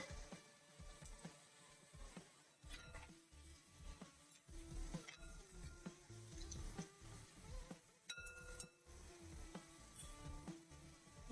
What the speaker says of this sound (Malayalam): നമ്മൾ 2-3 പ്രാവശ്യം മറിച്ച് തിരിച്ചുവിട്ട് ഫ്രൈ ചെയ്തെടുക്കാം കേട്ടോ